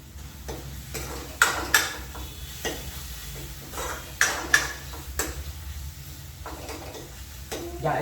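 Food roasting in a pan is stirred with a utensil, giving a soft sizzle under repeated scraping strokes and a few sharper clinks against the pan, close and fairly quiet.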